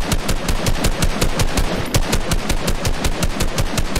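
Rapid automatic gunfire in the video game Fortnite, a loud, evenly spaced burst of shots repeating fast and continuously, with no talk over it.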